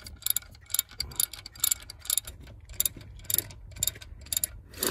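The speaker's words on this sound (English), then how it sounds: "Now we have the two bolts that we have to take care of. Just loosen them." A ratchet loosens 10 mm alternator bolts on a 2006 Ford F-150 with the 5.4L V8, making repeated bursts of sharp, close clicking strokes in a steady back-and-forth rhythm with short pauses between them.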